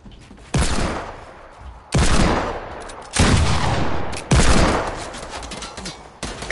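Video game gunfire: four heavy, loud bursts of shots, each hitting hard and then fading, separated by short gaps of quieter background.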